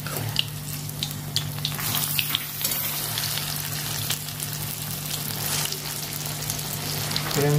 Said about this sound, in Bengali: আর আমি এটা এক পাশটা ভাজা হোক, তারপরে আমি উল্টো অন্য পাশটা ভাজবো